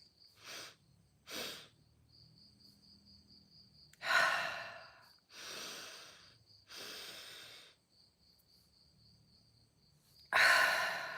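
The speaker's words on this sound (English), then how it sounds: "So it's going to sound, if I make a sound to each breath, it would sound like this." Deep, audible breaths in and out repeat slowly, with soft airy inhales and louder sighing exhales, close and quiet, while a faint cricket-like chirp pulses in the background.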